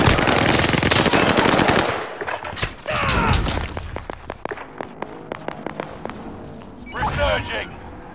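Rapid automatic gunfire from the Call of Duty: Modern Warfare video game, loud sustained bursts followed by scattered single shots and a later burst, with a player shouting over the action.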